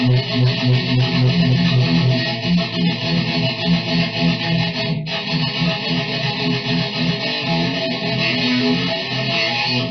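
Distorted stringed instruments play a fast, continuous riff in 2/8 time, dense and loud throughout with no talking over it.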